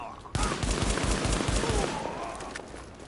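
Rapid gunfire crackles and pops in a continuous burst during a shooter game, Tom Clancy's The Division, loud and dense for about two seconds before trailing off.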